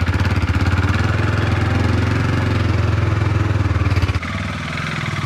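A 390 motorcycle engine chugging close by with a fast, even idle pulse that drops lower and quieter after a few seconds.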